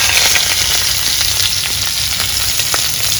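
Chopped onion sizzles in hot oil with fried boal river fish in the pan, a steady loud crackling hiss with small pops throughout, no voices.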